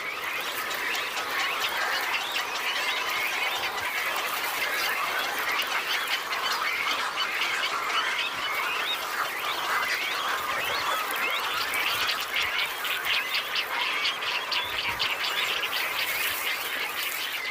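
A dense bird colony in the Volga Delta, with cormorants, grey herons, egrets and spoonbills nesting together. It gives a constant, busy din of overlapping squawks and calls, steady throughout and fairly distant, with no voices.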